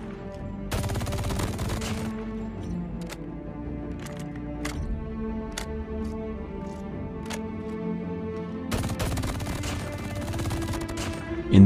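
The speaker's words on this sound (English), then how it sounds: "the default version of the new MG42L MG" The MG42L machine gun in Call of Duty fires in sustained automatic bursts, a dense rattling stream broken by short pauses, loud and close with game sounds underneath.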